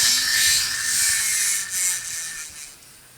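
High, whining motor hum as a modded Nerf Ultra 2 blaster spins up, loud and continuous with slight wavering in pitch, alone and close by.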